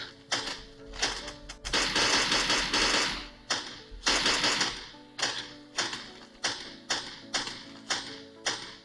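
Rapid PUBG gunfire crackles in quick sharp bursts, first a dense spray and then evenly spaced single shots, loud and close, with no talking.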